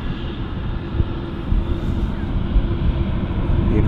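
A Dornier aircraft taxiing at London City Airport, a steady low engine drone and whine heard from a moderate distance, constant and unbroken throughout.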